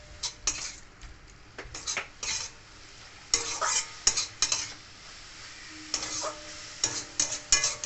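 Cooked red amaranth leaves stirred in a pan for a sweet-sour greens dish, giving irregular scraping clinks of a spatula against the metal pan over a soft sizzle, close and clear with no talking.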